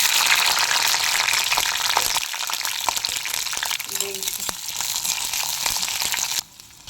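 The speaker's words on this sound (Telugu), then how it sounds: "మనం ఆయిల్ వేసుకుందాం కొంచెం బాగానే పడుతుందండి ఒక నైన్ స్పూన్స్ దాకా దీంట్లో పచ్చిమిర్చి వేసుకుందాం" Green chilies fry in a generous pour of oil for a raw tomato pickle, crackling and sizzling loudly and steadily up close with occasional stirring scrapes, then the sound drops off abruptly near the end.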